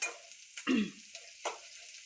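Vegetable dish roasting in a pan over low heat, a soft, steady sizzle close by, broken by a couple of brief stirring scrapes and one dull knock.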